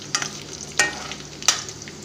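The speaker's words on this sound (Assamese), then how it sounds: "দি পেলাই অলপমান ৰঙচুৱাকৈ ভাজিছোঁ" Cardamom, cinnamon, bay leaves, ginger-garlic paste and onion fry together in hot oil with a soft steady sizzle, broken by three sharp scraping stirs of a spoon against the pan, close up.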